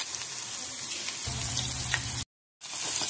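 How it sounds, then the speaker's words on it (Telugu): Cauliflower pieces fry in hot oil over a medium flame, a steady bright crackling sizzle with a brief low rumble partway through and a short gap of silence near the end. "ఇప్పుడు వేడి వేడి నూనెలోని వీటిని ఒక్కొక్కటిగా వేసుకొని మీడియం ఫ్లేమ్ మీద ఫ్రై చేసుకోండి."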